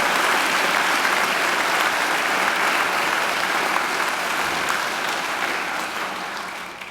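Sustained applause from a graduation ceremony audience for a singer, a dense steady wash of clapping that stays loud and then slowly tapers near the end, with no talk over it.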